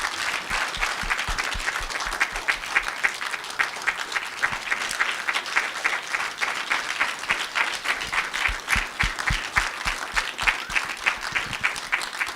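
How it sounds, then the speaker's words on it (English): An audience in a hall applauds after a professorial inaugural lecture, a dense, steady round of clapping that lasts throughout with no talk over it. "May we please give her another big round of applause"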